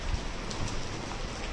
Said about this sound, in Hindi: बहुत तेज बारिश यार